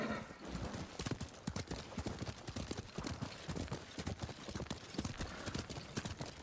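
Hooves clip-clop in a rapid, steady gallop from a horse ridden in the samurai video game Ghost of Tsushima, loud and continuous with an occasional whinny, a brief voice cutting in faintly.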